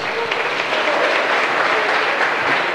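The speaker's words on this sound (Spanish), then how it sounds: "el aplauso de todos ustedes." An audience at a Colombian folklore festival applauding: dense, steady clapping from a large crowd, loud and sustained throughout.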